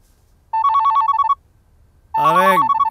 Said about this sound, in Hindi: फोन उठा ले यार, बज रहा है।